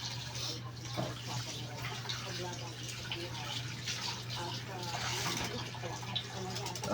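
Water runs from a faucet while dishes are washed, a steady splashing rush with small drips and clinks. Faint voices sit underneath.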